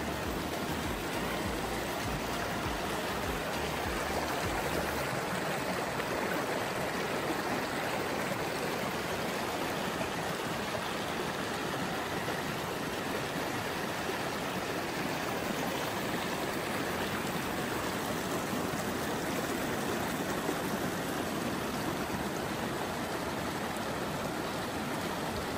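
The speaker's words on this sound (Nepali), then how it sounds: "राराबाट बगेर आएको पानी हो यो चाहिँ" Water flowing out of Rara Lake forms a steady, broadband stream rush that stays close and constant throughout, with no voices over it.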